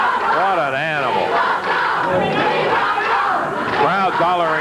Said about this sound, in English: Crowd hollering, we want Paul.